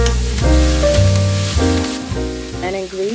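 Stir-fry rice with Italian seasonings and cumin seed cooking together in a pan, giving a steady, close sizzle beneath background music.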